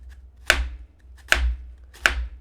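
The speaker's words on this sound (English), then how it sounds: "you just slowly take thin slices" A kitchen knife slowly cuts thin slices of onion on a cutting board, giving three distinct, well-spaced chops with a crisp snap and brief thud each, close and clear with no talking.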